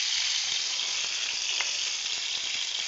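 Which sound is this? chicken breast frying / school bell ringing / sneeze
chicken breast frying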